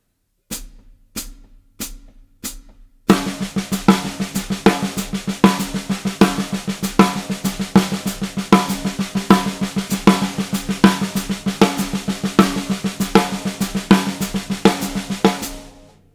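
A drum kit played with single strokes, accenting every fifth note, gives steady even hits with regular louder accents. A few sparse taps lead in, then a dense continuous stream of strokes runs to the end.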